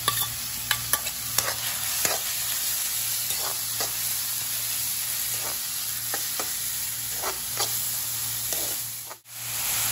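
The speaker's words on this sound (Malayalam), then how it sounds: "എന്നിട്ട് 2 സവാള അരിഞ്ഞിട്ടുണ്ട്, അതിന് വന്നിട്ട് ഇളക്കി കൊടുക്കാം." Chopped onions sizzle and fry in a hot pan for egg bhurji while a spoon stirs them, scraping the pan in irregular clicks over a constant hiss. The sound drops out briefly near the end.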